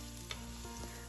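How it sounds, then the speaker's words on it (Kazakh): Garlic frying in hot sunflower oil in a pan, a dense close sizzle with a couple of quick stirring scrapes over about a second. "Табамызға күнбағыс майын құйып, қызған соң чесногымызды салып қуырамыз"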